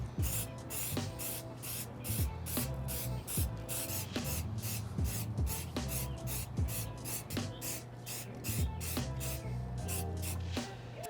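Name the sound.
spraying water and stain repellent on sneakers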